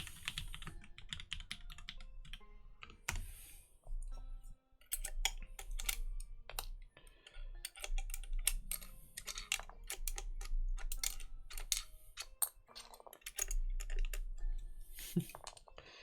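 Rapid, uneven keystrokes on a mechanical keyboard fitted with silent Alpaca switches, close and fairly soft, with muted clacks in bursts and short pauses over a low background hum.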